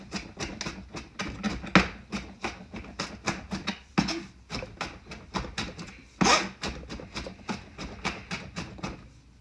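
Garlic being finely chopped with a knife on a board, a quick, close series of sharp taps in an uneven rhythm, heard alone.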